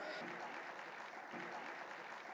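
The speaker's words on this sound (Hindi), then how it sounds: "मैं चाहूंगा जोरदार ताली आप सबकी तरफ से बजनी चाहिए" Audience applause at a birthday celebration event attended by Delhi's Chief Minister, a soft, distant, even patter of clapping that holds steady for a couple of seconds.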